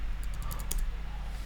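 Keystrokes on a computer keyboard while coding: a quick run of about seven close, crisp clicks in the first second, then quiet hum with no talking.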